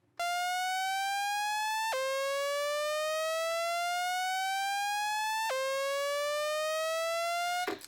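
Omnisphere synth tone under LFO pitch modulation with phase set to 50%, heard alone as a steady rising ramp that snaps back down about every 3.5 seconds, clear and sustained for several cycles.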